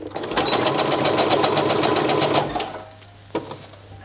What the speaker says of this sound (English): now stitch 1 centimeter seam allowance over this sleeve